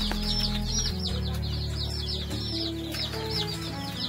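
Native country chicks on a poultry farm keep up a constant high, dense chirping. A low, steady hum of machinery or fans runs beneath it, and no voices are heard.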